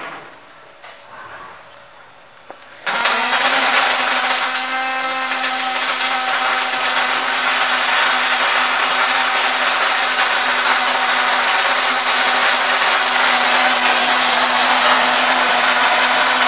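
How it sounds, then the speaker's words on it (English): A robotic drive shaft welder welds a clamped, rotating drive shaft behind a weld curtain, starting abruptly after a quiet moment and then holding a loud, steady, buzzing hiss with a constant hum beneath it. "And welding."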